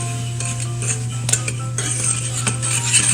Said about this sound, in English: now we'll just make sure to combine the flour and the sugar.